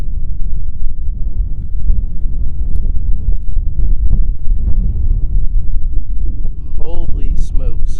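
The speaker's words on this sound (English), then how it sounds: "This wind is killer out here today." Wind buffeting a microphone outdoors in a cornfield, with a constant loud, low rumbling roar throughout and a voice faintly talking toward the end.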